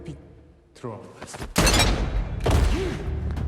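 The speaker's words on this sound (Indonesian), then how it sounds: "langsung disambut oleh tembakan shotgun" Sharp, loud shotgun blasts burst out after a quieter passage, with echoing booms and a voice speaking faintly beforehand, in a church scene from a John Wick film.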